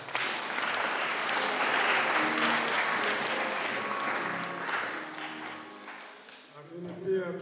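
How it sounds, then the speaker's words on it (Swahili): Sustained, dense applause from a large audience at a youth conference, steady for several seconds before thinning out near the end. "Katika hiyo pongezi ya jumla naomba mjipigie makofi wote."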